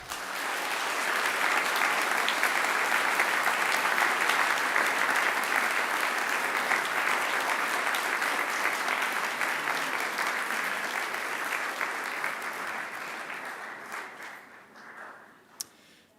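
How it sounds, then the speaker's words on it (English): Large graduation audience giving a long sustained round of applause, thick even clapping that holds steady before gradually thinning out and fading, with a last stray clap near the end. "And now I invite you to give them a mighty round of applause."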